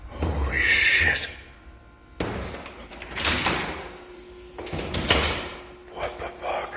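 A door swings shut on its own indoors, its sharp thud arriving midway after rustling and movement, followed by lighter knocks and clatter; a voice speaks faintly at the start.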